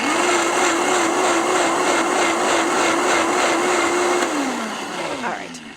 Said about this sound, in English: we're just going to put this in our high-speed blender